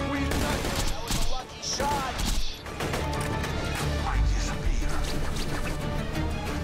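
Busy firefight in Borderlands 2 during Tiny Tina's Assault on Dragon Keep, repeated gunshots and impacts layered over music and game effects, with voices talking through the action.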